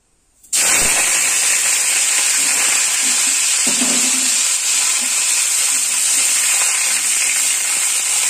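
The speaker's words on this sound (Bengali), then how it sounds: "আগে আমি ফুলকপিটা ভেজে নেব" Cauliflower hits hot oil in a pan with a sudden loud hiss, then sizzles and spits continuously and close up, a bright, even frying roar with faint clinks underneath.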